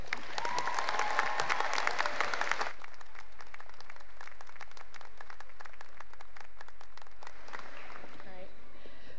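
Audience applause rises to a loud burst at an Albright College 2019 commencement, welcoming the student speaker, then thins to scattered claps and a quiet, murmuring hall.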